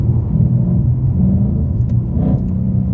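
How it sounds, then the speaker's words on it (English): A Ford Mustang in Sport Plus mode rumbles deeply through a rev-matched downshift on an exit ramp, the low engine note holding loud and close with a brief swell near the end. "I dig those downshifts."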